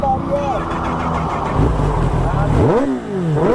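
A heavy, powerful motorcycle starts and revs close by, its engine note rising and falling in swoops, with people talking over it.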